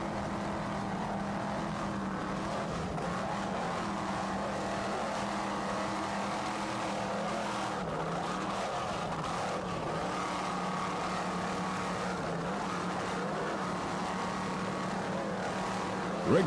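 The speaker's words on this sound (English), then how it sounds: "South Padre Island Grand Prix from South Padre Island, Texas. Gulf of Mexico, choppy waters, exciting racing." Racing powerboats at the 1994 South Padre Island Grand Prix run on choppy Gulf of Mexico water, their engines a steady, distant roar that drones without pause and with no talk.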